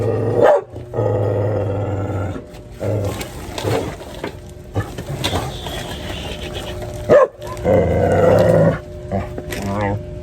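Dogs growl and bark in a noisy scuffle, snarling sounds rising and falling, while people talk over the commotion.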